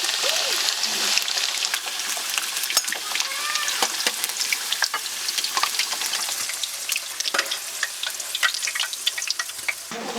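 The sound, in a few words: potatoes and lamb frying in a pan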